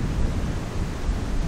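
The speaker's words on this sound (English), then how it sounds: "It's not just the hitting of the golf ball that I struggle with in a wind this strong." Strong wind blowing across a golf course, a constant low rumbling roar of buffeting gusts against the microphone with no other sounds.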